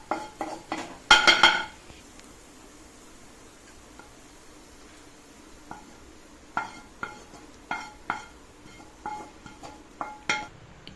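Sautéed onions scraped from a kadai onto a plate for capsicum thuvayal, a dense burst of metal clinks and scrapes near the start, then scattered single utensil taps and clinks against a quiet background.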